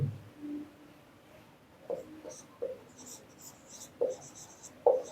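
A pen or marker writes on a board during a Hindi-language economics lecture on budget types, with soft, faint strokes and a few brief squeaky taps spread over several seconds in a quiet room, faint talk in the background.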